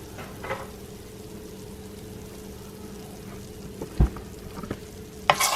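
Brown gravy mix stirred in a pan on the stove: a steady soft sizzle and bubbling with a low hum underneath, broken by a few faint spoon scrapes and taps near the end, no voices.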